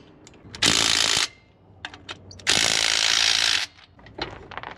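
Two long bursts of rapid ratchet clicking from a hand ratchet tightening a nut on a Jeep wheel hub, loud and close, with short clicks and handling noises between them.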